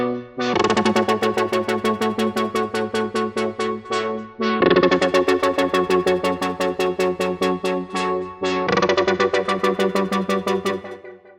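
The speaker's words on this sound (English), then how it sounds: "that is the LFO stutter kind of synth" Soloed synth pad, chopped by an LFO into a rapid rhythmic stutter, each chord pulsing in fast even bursts with brief breaks between chord changes.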